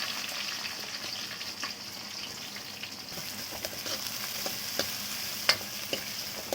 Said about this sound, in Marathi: हे चांगलं फ्राय होऊ द्यायचं